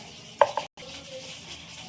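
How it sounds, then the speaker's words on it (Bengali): Capsicum pieces being stirred in hot oil in a pan while making paneer in milk, two quick utensil scrapes followed by a low, steady sizzle close by. "ক্যাপসিকামগুলো ভাজার জন্য নেড়ে দেবো।"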